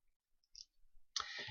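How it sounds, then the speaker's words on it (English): A computer mouse clicking the OK button in file-workflow software, with a couple of faint small clicks followed by a sharper, louder click near the end, in a quiet room. "And I'm just clicking on OK."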